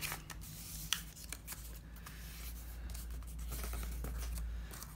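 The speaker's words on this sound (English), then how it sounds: "I'm going to fold it back on itself and then fold that last one up." Paper being folded into journal butterflies, with close crisp rustles, creases and rubbing strokes over a low steady background hum, no talk.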